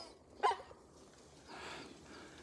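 A dog by snowy Lake Yamanaka gives a single short bark near the start, then faint outdoor ambience with a soft rustle later.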